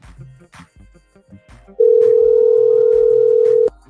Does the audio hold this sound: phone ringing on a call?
yes